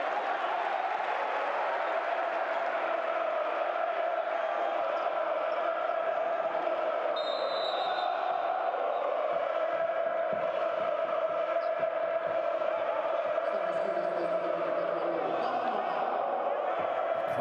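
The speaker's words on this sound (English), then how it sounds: "The crowd have well and truly found their voice" Arena crowd roaring at a PAOK versus JDA Dijon Basketball Champions League game, a sustained wash of cheering voices with a commentator talking over it and occasional ball bounces.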